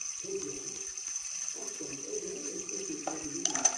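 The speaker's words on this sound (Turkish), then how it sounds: "Sonra biraz tehlikeli maddeler dökelim arkadaşlar." Liquid pours in a cooking video game, a steady watery rush like a running tap that continues for several seconds at moderate volume over a faint background tone.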